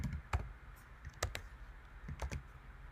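Typing on a computer keyboard while entering Go code, heard as a few sparse, quiet key clicks spread across a few seconds, close to the microphone with no talking.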